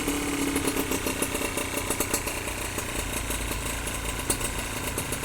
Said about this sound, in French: Elle tourne vraiment au ralenti.